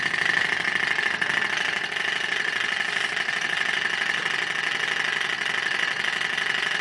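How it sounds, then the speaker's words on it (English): A Ringbom hot-air engine runs steadily on a workbench, giving a continuous even mechanical whir with a fine rapid ticking rhythm, close and moderately loud throughout with no speech. "The ring bomb engines are actually pretty nice running engines."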